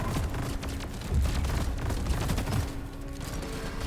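A rocket launcher fires in the video game Deep Rock Galactic, a dense, loud run of booming blasts and explosions layered over continuous rumbling combat noise.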